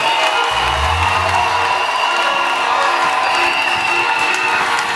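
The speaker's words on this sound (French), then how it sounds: "Est-ce qu'on peut applaudir?" A wedding crowd applauds and cheers continuously at steady loudness, with scattered whoops rising above the dense clapping.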